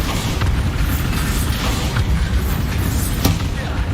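A Bombarda spell explosion in the game Hogwarts Legacy gives a dense, loud blast with a rumbling wash of noise, one sharp crack near the end, and no clear talk.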